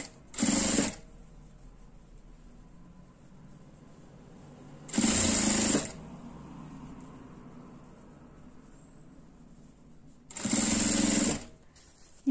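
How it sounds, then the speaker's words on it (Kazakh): Sewing machine stitching a bag with green thread, running in three separate buzzing bursts of about a second each with quiet gaps between, close and clear, with no talking. "бұған түспа, жасыл түс жіппен тігу керек."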